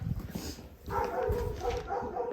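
A dog whimpers and gives a few soft, muffled barks close by, fairly quiet against a low background rumble.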